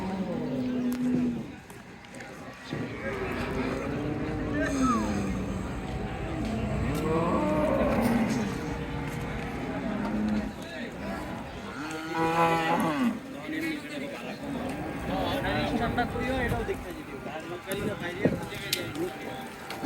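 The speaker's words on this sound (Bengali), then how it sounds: "গরু নিয়ে আসা হচ্ছে" Cattle lowing at a busy Eid cattle market in Bangladesh, with several long, rising moos from nearby animals amid steady crowd noise and voices talking throughout.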